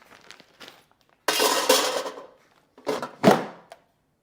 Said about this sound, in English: So we're gonna pop it out, put some frozen dumplings in there.